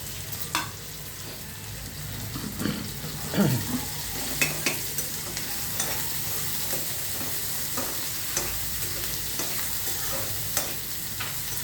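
Bitter gourd tamarind curry with crushed garlic sizzles in a pan while being stirred, a steady close frying hiss broken by scattered scraping taps of the spoon, with no talk.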